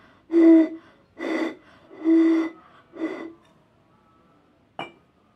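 Four short blown tones across a bottle holding 16 cm of water, each a breathy pitched note with a brief gap between, followed by a faint glassy click, close and alone.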